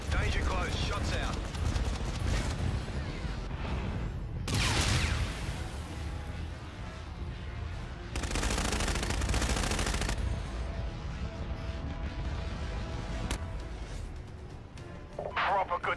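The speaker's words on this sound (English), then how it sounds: "Shots out." Gunfire in a first-person shooter game: rapid machine-gun bursts and heavy shots crack over a dense rumbling game soundscape, with louder volleys standing out, under radio-style voice chatter.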